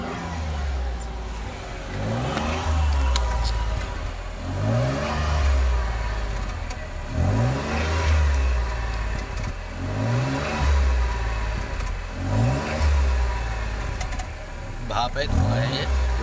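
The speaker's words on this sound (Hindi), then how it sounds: "एक्सीलेटर देना सर थोड़ा तेज।" A car engine on a cold morning start is revved again and again as the accelerator is pressed. Each rev rises and falls in a regular rhythm about every two to three seconds, close and loud, with voices faintly underneath.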